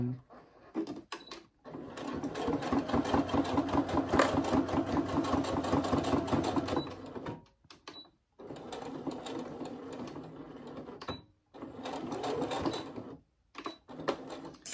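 A sewing machine stitches fabric while a sewing organizer is made, running in several steady rhythmic bursts of rapid needle clatter separated by short pauses and handling noises, close and clear.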